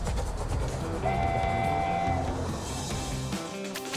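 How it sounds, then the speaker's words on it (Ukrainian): A train departing in the Avatar World mobile game, a steady rolling rumble with a sustained horn-like whistle tone sounding for about a second in the middle, fairly loud and continuous. "Поїзд вирушає. Наступна зупинка тока бока."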